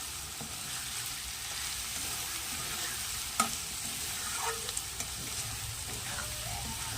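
Potato curry being stir-fried down in a pan, a soft continuous sizzle with occasional light scrapes and taps of a spatula, fairly quiet and without voices.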